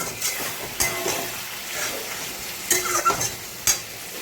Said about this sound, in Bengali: দইটাকে দিয়ে আমি আরেকটু কষিয়ে নিচ্ছি